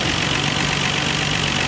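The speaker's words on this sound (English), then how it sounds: "RB26 engine started up good and runs well." A 1999 Nissan Skyline R34 GT-R V-Spec with its RB26 engine idles steadily, a close, continuous mechanical hum with a low rumble, heard alone without talk.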